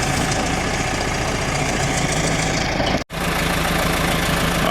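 A 1990 Case 410C backhoe's diesel engine runs loud and steady in a field, a dense rumbling drone with one brief dropout near the end.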